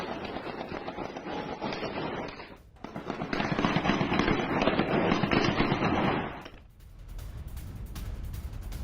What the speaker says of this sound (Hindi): एलेपो यूनिवर्सिटी में हुई फायरिंग की ये तस्वीर